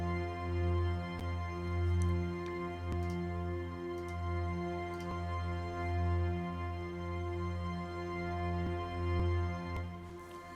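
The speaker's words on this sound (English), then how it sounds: "Spitfire Originals intimate strings." A sustained drone from Spitfire Originals intimate strings, used as a song intro: steady layered string tones that swell gently in slow waves over about ten seconds, with faint higher flickers and no talking.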